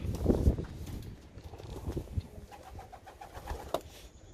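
Breeder pigeons coo softly in a loft, low murmuring calls repeating over faint shuffling and rustling, close but quiet.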